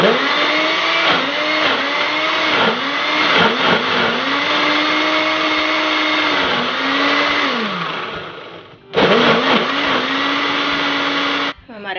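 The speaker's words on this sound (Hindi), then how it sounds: "मसाले को हमने ब्लेंडर में डाल दिया है" A blender grinds a spice masala for kofta, a loud continuous whirring drone that runs for about nine seconds, cuts off briefly, then whirs again before stopping.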